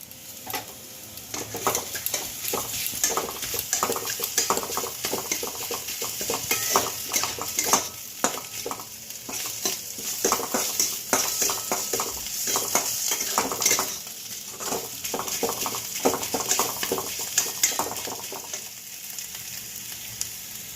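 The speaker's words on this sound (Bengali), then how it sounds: "এবার রসুনটা দিচ্ছি, আদা রসুন পেস্ট" Ginger-garlic paste fries in hot oil with onion and potato, making a dense continuous sizzle with busy, rhythmic stirring and utensil scrapes throughout, close and fairly loud, with no talking.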